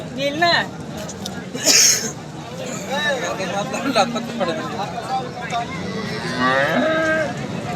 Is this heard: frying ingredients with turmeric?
no